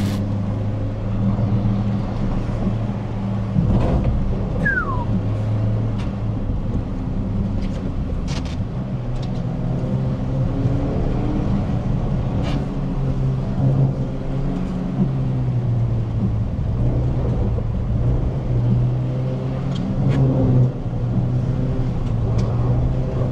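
A car drives steadily through deep water, its engine droning low under constant rushing and splashing, with a few sharper knocks and surges as it brakes and keeps moving.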